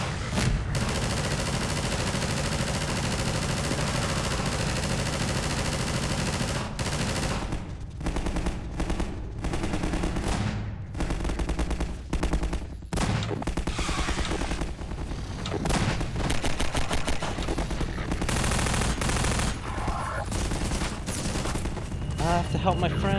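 Rapid automatic gunfire and explosions from a Half-Life 2 firefight roar in dense, sustained bursts with brief pauses, loud throughout, while a player talks over the shooting.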